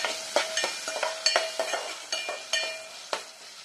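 Onions and green chillies fry in hot oil with garlic, cumin and mustard seeds while a spoon stirs them, giving a steady sizzle broken by a dozen or so sharp scraping clacks at an irregular rhythm, close and fairly loud.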